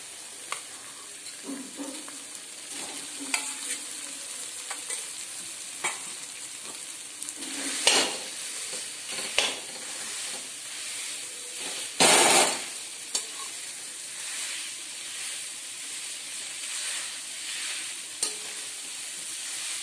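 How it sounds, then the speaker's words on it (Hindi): Mava (khoya) being roasted in a kadhai, with steady soft frying and sizzling under repeated stirring and scraping, sharper scrapes standing out now and then, close and moderately quiet throughout, with no talking. "अब वापस से वही कढ़ाई लेंगे और अब मावे को भून लेंगे"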